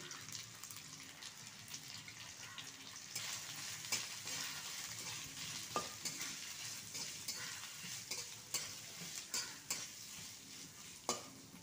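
Grated garlic frying in a pan for chilli paneer, a steady close sizzle with repeated sharp scraping and tapping from stirring, quiet overall.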